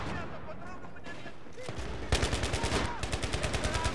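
Rapid automatic gunfire in the Battlefield game's Operation Metro map, loud repeated bursts with a steady rhythm that break in suddenly after a quieter stretch of game ambience and faint talk.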